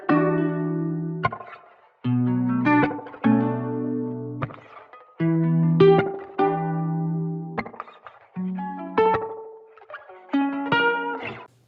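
Electric guitar chords run through an equalizer, a tape-style plugin, a flanger and reverb for a lo-fi beat sample, played as a steady series of sustained, shimmering strums with short gaps, alone and without talk.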